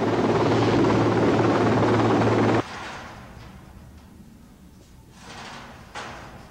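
A helicopter ferrying bridge sections of the Fingerspan sculpture to and from fields near Philadelphia, 1987, produces a loud steady rotor drone that cuts off abruptly after a few seconds, leaving quieter distant ambience.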